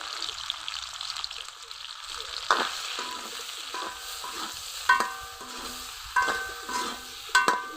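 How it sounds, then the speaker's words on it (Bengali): Prawns frying in hot oil with salt and turmeric, a low crackling sizzle punctuated by several sharp clinks of a utensil against the pan, close and fairly quiet. "তেল গরম হয়ে গেছে দিয়ে দিব চিংড়ি মাছগুলো লবণ আর হলুদ দিয়ে ভেজে নেব"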